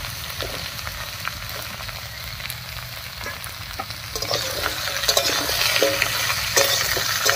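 Mixed vegetables for a vegetarian five-vegetable dish are stirred and fried over a spice tempering, with a continuous close sizzle and scraping stirs that grow louder and busier toward the end.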